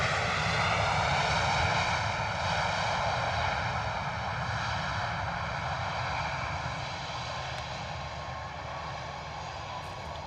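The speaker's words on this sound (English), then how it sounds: "Beautiful arrival there from the A320 Neo coming in from Geneva." An Airbus A320neo jet arriving at a misty London Luton Airport, a loud, sustained engine roar with a steady whine that slowly fades as the aircraft passes.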